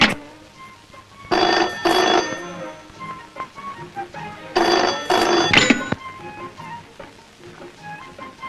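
A telephone rings in two bursts of double trills, each bright and metallic, separated by a pause, close and loud against a quiet room with faint background noise.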